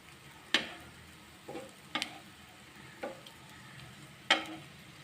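Gola kebabs sizzle softly in a pan while being turned to cook both sides, with a faint frying hiss punctuated by several sharp clicks and taps of a utensil.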